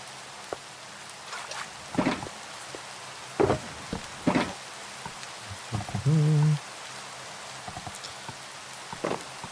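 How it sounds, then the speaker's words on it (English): Rain falls steadily in a blocky video game world, a constant soft hiss with scattered louder drop patters and one brief tonal blip partway through. "Oh, and it's raining."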